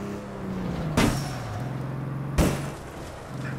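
A car in the video game APB Reloaded sounds with a steady engine hum and two sharp, loud thuds like doors slamming or impacts, spaced about a second and a half apart.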